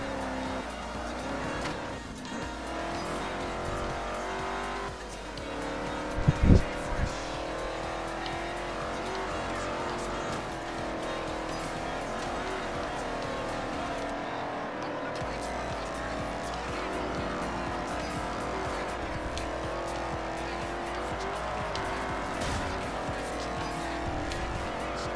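A racing car engine drones continuously at high revs in the video game Forza Horizon, with tires squealing and skidding through corners and a brief thump partway through, loud and steady throughout.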